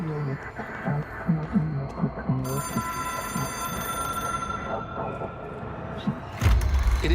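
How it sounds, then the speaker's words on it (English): A ringing telephone in the video game Control, a steady tonal ring that sustains from partway through while a person talks over the game's low background rumble. "It is a phone."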